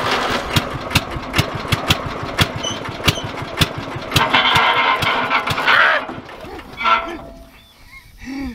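Farm tractor engine firing up and running with a rough, evenly spaced knocking beat that turns into a louder, smoother rumble, then fades toward the end.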